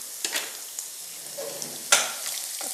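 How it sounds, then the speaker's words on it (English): Food sautéing in a pan with soft, steady frying crackle, broken by a few sharper stirring scrapes and clatters near the mic. "this has to saute for some time."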